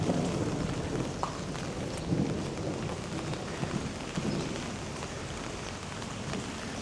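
Steady heavy rain falls over the Thảo Điền neighbourhood of Ho Chi Minh City, a constant dense hiss of drops with no voices.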